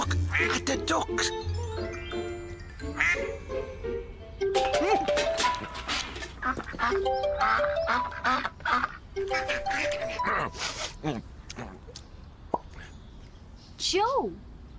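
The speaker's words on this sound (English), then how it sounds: "Oh, look at the ducks." Cartoon ducks quack repeatedly in lively bursts, loud and close, with splashy plops and chirpy bird calls in an animated children's show, and a voice speaking in between.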